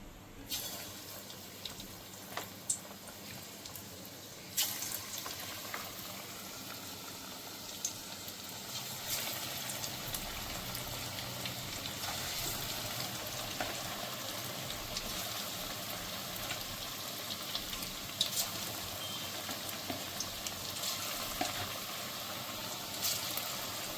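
Chicken pieces frying lightly in a pan of butter garlic sauce, a steady close hiss and crackle of sizzling that holds fairly even throughout with small pops.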